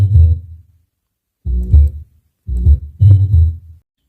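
Deep bass tones made from a processed Minecraft sample run through an amp, tuned to G, sounding as three separate low, throbbing bursts with short silences between them.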